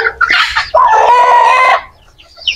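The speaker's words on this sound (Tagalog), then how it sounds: "nagpakain ng ating mga alagang manok." Backyard chickens clucking and calling while being fed in the afternoon after a storm, a close burst of several overlapping hens, then a longer steady run of clucks before fading to quiet.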